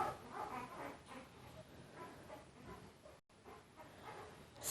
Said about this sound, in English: Listen to those puppies suckling.